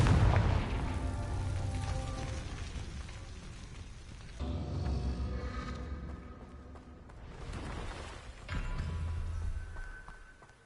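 Blasting Confringo spell explosions in Hogwarts Legacy, several heavy booming bursts in a row with rumbling low-end tails, loud and close amid busy game ambience.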